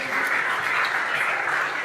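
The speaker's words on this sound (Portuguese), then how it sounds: "Vamos aplaudir ao Senhor." A church congregation applauds during a Father's Day service, continuous, even clapping from many people filling the room.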